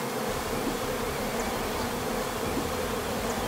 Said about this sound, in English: Look at this massive swarm of bees.